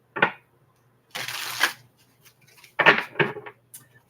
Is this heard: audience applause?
no